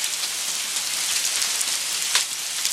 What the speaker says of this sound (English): It's like hailing, and oh my gosh.